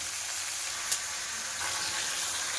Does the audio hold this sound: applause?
no